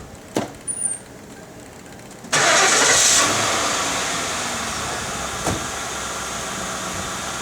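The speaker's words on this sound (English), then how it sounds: "Let me start the car" A car engine cranks and fires up abruptly, then settles into a loud, steady broadband running roar that eases slightly and holds; a couple of faint clicks come before it starts.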